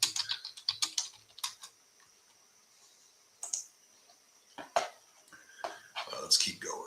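Someone types on a computer keyboard in short quick bursts of clicking keys, close and fairly faint, pausing between runs in a quiet room.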